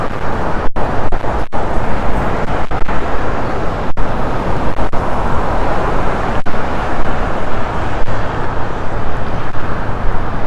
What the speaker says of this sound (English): I'm sorry for the highway noise.